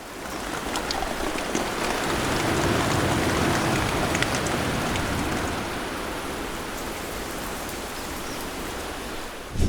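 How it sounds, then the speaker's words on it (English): Steady rain falls continuously on a tarp and surfaces, a dense even hiss of drops that holds constant throughout with no voices. "waiting until this steady rain finally comes to an end"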